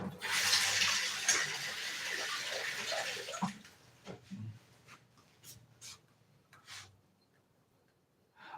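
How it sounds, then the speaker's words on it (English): Rice being rinsed in water to wash off the starch, with a steady rushing splash of running or sloshing water for the first few seconds, then quieter intermittent swishes, clinks and stirring sounds. "I am removing the starch right now from the rice"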